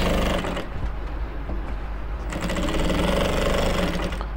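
A sewing machine stitching a garment seam across the shoulder, a fast continuous mechanical rattle with a brief slowdown midway before running on steadily, close and loud.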